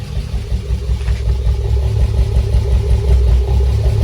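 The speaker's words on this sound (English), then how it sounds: "It's got a little bit of a low idle." An Acura Legend Coupe, started again after sitting for over three years, idles low and steady with a close mechanical rumble and light valvetrain clatter, alone with no voices.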